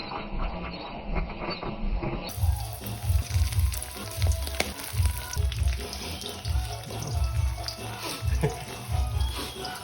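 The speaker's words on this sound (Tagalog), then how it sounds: "Prito muna natin itong tuyo." Tuyo, dried fish, frying in a pan in a home kitchen, a steady close sizzle with bursts of crackling and popping. Running water and clattering utensils come and go around it.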